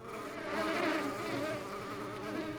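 Bees buzz at a beehive in the Book of Hours video game, a soft, continuous droning hum with wavering tones, moderately faint and steady throughout, with no voices.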